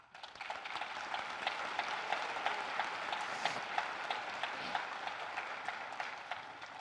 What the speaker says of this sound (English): Class of 2022, give yourselves a round of applause for all the hard work that got you here.